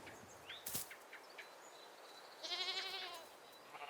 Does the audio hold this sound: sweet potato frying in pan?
no